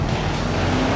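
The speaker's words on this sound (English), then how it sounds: "This is a custom-made Dodge Challenger." A custom-made Dodge Challenger's engine gives a steady, fairly loud low rumble from close by, with no talking.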